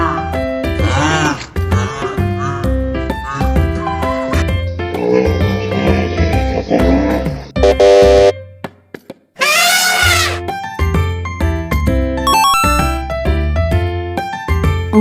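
Rhinoceros calls, deep grunting and bellowing, are heard over a loud, busy children's game music track, with a louder animal burst near the middle after a brief drop in the music.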